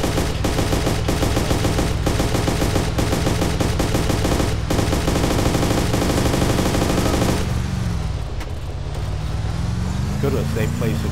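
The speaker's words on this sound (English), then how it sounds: "because we're under fire" Sustained gunfire during an attack in the military shooter Arma 2, with rapid machine-gun bursts and single shots over a loud, steady engine rumble from a moving vehicle. The firing fades after several seconds while the engine keeps droning.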